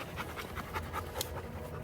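A hound dog pants rapidly and steadily at close range after working pheasants on an Iowa hunt, a continuous breathy rhythm with no talk.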